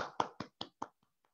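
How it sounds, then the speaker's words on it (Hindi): A handful of sharp hand claps ring out in a quick, even rhythm, five distinct slaps that fade into a couple of faint taps, sounding close and sparse rather than like a full audience. "एक बार जोरदार तालियां प्लीज"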